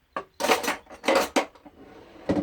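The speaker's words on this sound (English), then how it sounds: "This has all our cooking utensils in here. I've got our silverware" Cooking utensils and silverware rattle and clank in a kitchen drawer of a Winnebago Micro Minnie 2106FBS motorhome. Several loud, close metallic jangles come in quick bursts as the items are shifted around.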